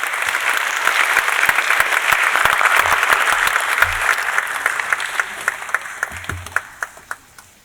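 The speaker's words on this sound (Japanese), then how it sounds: "拍手お願いします。" An indoor audience gathered for a spiritual teacher's talk bursts into applause, loud and dense at first, then thinning into scattered individual claps that fade out.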